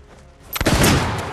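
A sharp gunshot cracks out after a brief quiet in a duel scene from the film John Wick, followed by a second blast and a booming echo that slowly fades.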